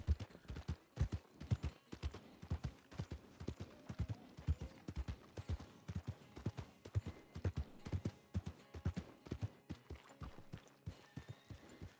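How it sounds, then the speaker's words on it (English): Horses in a barn within the RedM western roleplay game clatter with dense, irregular clip-clop hoofbeats, close and loud, with occasional snorting and whinny-like noises and no talk over them. "that was a very different horse sound coming out of the barn."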